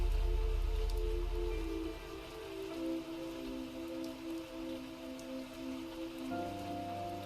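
Steady rain falls in a fantasy role-playing game scene, a continuous close wash of drops on surfaces with soft rustling, joined by sustained low musical tones throughout and no voices.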